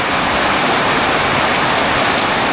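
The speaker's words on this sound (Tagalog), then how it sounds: "Umuulan." Heavy rain pours down in a steady, dense, loud hiss that fills the scene without a break, with no voices.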